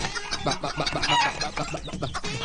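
Chickens clucking close by in a film scene, a busy run of short overlapping clucks and squawks over background noise, with no talking.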